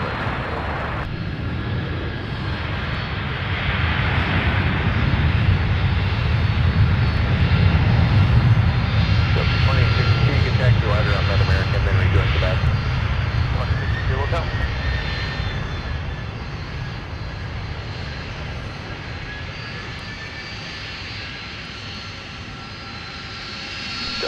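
A Delta airliner on arrival at Minneapolis–Saint Paul airport roars past, its engine rumble swelling to a loud peak and then slowly fading as it passes, heard alone without talk.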